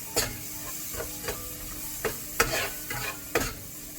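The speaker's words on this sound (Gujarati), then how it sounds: "આ બધું આપણે તે મિક્સ કરીને એને હલાવી લઈશું।" Boiled dal with red chilli powder and a spoon of garam masala is stirred in a hot pan over a low flame, with close scraping strokes about every half second over a soft continuous sizzle.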